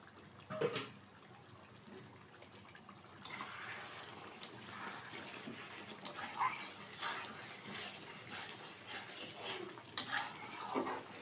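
Lid lifted off a pot of chicken curry after twenty minutes of covered simmering, with a brief metallic clank and clatter of the lid followed by soft cookware handling and a low, steady simmer, no voices.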